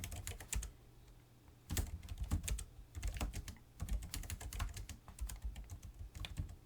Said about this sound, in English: so I'm typing admin